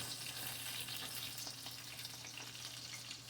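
An egg frying in a pan for a sandwich gives a continuous, faint crackling sizzle with a low steady hum underneath, close by and unbroken.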